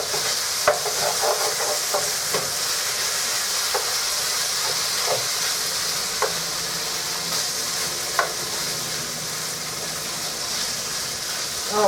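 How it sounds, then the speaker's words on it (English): Beef and broccoli sizzle steadily in a hot pan while a utensil stirs and scrapes through them, with a constant frying hiss and occasional sharp clicks of the spoon against the pan, and no voices. "So let me stir this up."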